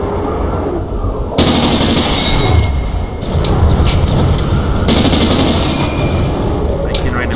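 Doom enemy fire pours out in a heavy, continuous barrage of rapid gunfire and booming blasts, loud and dense, with a player's voice talking over the combat.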